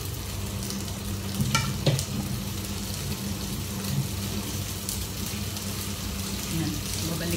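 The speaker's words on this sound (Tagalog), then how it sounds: "Kaya, prito lang natin siya. Hindi naman sa pritong-prito. Hanggang half-cooked lang." Chicken pieces frying in a pan as the first step of a chicken curry, giving a steady close sizzle throughout with light stirring clatter, no talk over it.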